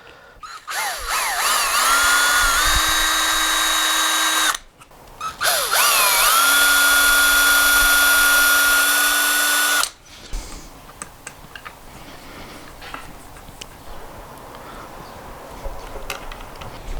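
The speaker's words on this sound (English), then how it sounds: "So I've got my drill and my pilot hole ready." Two long bursts of a power drill whining at high speed, close up, driving a strap button into a pilot hole in a guitar body, each rising then holding steady, followed by quieter clicks and handling noises.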